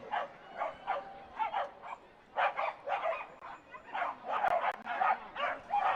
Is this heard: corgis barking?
yes